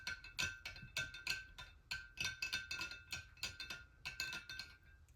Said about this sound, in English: I'm going to clean my brush out in my water.